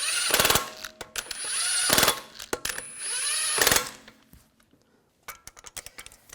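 Impact wrench snugging down wheel bolts on a 2004-2009 Audi A4 Quattro, three loud rattling bursts close by, each about half a second to a second long, followed by metallic clinks and tool handling.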